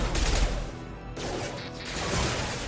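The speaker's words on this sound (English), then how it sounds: "Firing an impact shot!" Impact shot weapon fired in the video game Mass Effect 2: a sharp, loud crashing blast at the start, followed by a second burst and a rumbling tail, with no talking.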